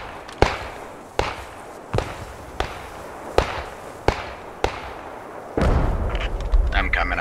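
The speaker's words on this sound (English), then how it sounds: "So if you could see the field and where I'm landing the mortars, that would be great." Mortar fire in the video game Post Scriptum comes as six sharp, evenly spaced booming reports about a second apart, followed by a louder sustained rumble at the end.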